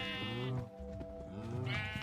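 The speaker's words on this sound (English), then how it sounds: "I think those are black sheep." Black sheep bleat twice, with loud, wavering calls close by and a short gap between them, and nobody talks over them.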